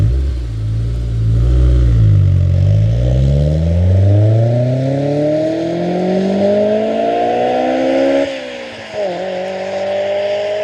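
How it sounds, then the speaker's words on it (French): Honda S2000 Type R fitted with an HKS exhaust revving hard, the engine note climbing and falling through several loud sweeps with a sharp drop near the end, close and without talk. "Le pot HKS, il fait un boucan, ça résonne partout."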